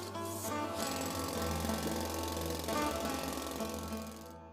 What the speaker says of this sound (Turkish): madenci Hilti'nin sesiyle birlikte bitip tükenmez bir çabayla kara elmasın içine dalıyor